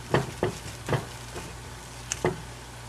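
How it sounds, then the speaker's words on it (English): Breadcrumb-coated patties pan frying, browning before the flip, with a soft low sizzle under a handful of sharp utensil taps and clicks spaced about half a second apart. "Just like anything else you're pan frying, you want it to brown off just a little."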